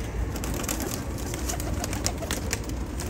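Pigeons, including Rampuri and golden-grey breeds, coo softly and repeatedly over a steady hiss of ambient noise, with no talking.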